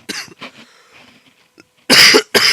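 Several coughs from one person: a few lighter hacks at first, then two loud, harsh bursts close to the microphone, in a quiet room.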